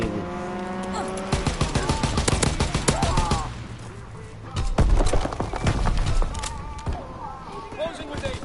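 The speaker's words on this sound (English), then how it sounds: "Fighter pilot inbound. Strafing the target." Fighter plane strafing gunfire in a PS4 video game: loud rapid bursts of automatic shots in dense clusters, with sharp impacts and game voices over the shooting.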